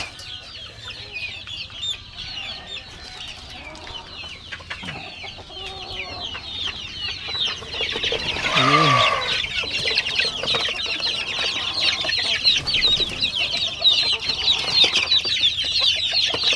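Pet chicks and hens clucking and peeping nearby, a steady busy chorus of overlapping calls that swells louder toward the end, with no talk.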